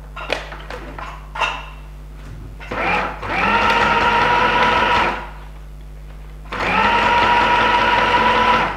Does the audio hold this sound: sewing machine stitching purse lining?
yes